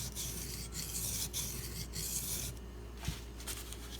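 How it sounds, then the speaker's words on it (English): A Benchmade Mini Crooked River knife blade scrapes back and forth on a sharpening stone in steady rasping strokes with short pauses, close and quiet. "I'm going to go back and forth on the stone. That's going to give enough pressure to grind that one area"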